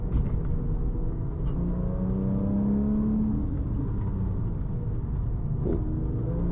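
A Porsche 997 911 GT3 Mezger engine revs and drones steadily, its pitch sweeping up then settling, a loud continuous rumbling whine heard from inside the car.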